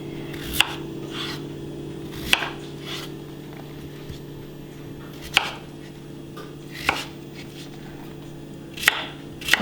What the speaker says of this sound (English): You can cut them into small cubes, just bite-sized cubes